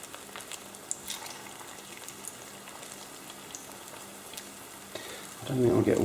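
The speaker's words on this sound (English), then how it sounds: "So we're ready to put the egg bread in." A quiet kitchen hum gives way to a sudden loud sizzle near the end as egg bread hits a warmed frying pan, crackling strongly and up close.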